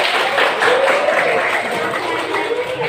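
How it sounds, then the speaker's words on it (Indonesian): Students in a classroom clapping together, a steady dense patter of applause mixed with voices and murmuring throughout. "Kasih tepuk tangan lagi."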